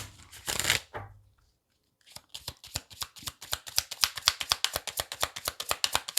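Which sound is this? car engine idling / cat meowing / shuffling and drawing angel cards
shuffling and drawing angel cards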